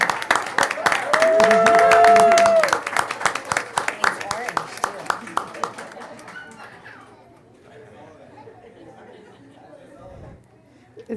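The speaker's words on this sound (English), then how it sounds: "if we can welcome him with a round of applause." A small crowd at a school board meeting claps, first in a dense burst and then in scattered, thinning claps that fade out, with voices mixed in.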